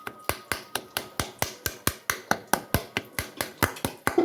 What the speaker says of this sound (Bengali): বেগুনগুলো যেভাবে ম্যাশ করলো আওয়াজ করে